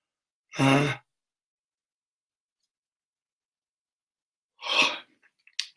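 A person yawns close by, a single long breathy exhalation, then after a stretch of silence a second shorter breathy sound followed by a few faint clicks.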